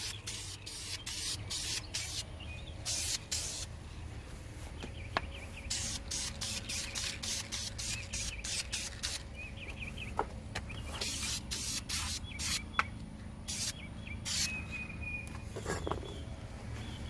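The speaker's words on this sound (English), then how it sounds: "give them a quick spray, just so that they're sealed and they don't rust again" Short hissing bursts of aerosol spray on the bolts of a 1977 MGB repeat again and again, close by and fairly quiet, with small clicks and handling noises between them.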